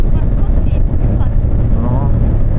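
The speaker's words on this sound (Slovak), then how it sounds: "trocha fúka, ale dá sa to prežiť" While riding, wind buffets the microphone with a constant low, rumbling roar that fluctuates slightly in strength and dominates the whole stretch.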